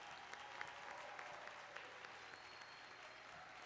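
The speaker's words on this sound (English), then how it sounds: "Let's have one more round of applause for the graduating class of 2021." Steady, sustained applause from a large crowd honoring the graduating class at the 2021 Jefferson College commencement, a dense wash of clapping heard from a distance in a big space, with no voices over it.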